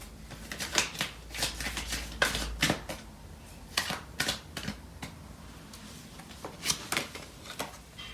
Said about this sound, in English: So I'm going to pull out some cards from the other deck.